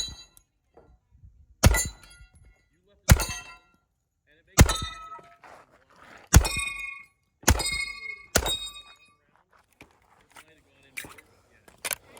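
Bullets striking a steel target that will not fall at a Halloween PCC-shotgun match at Pima Pistol Club, a string of six sharp metallic clangs spaced about a second apart, loud and close, then fainter ringing hits with quiet gaps.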